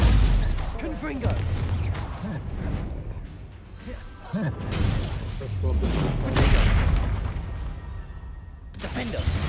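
Confringo fire spells burst in the Hogwarts Legacy video game, a busy run of booming blasts and crackling impacts layered with game music and combat noise, while a person talks over much of it.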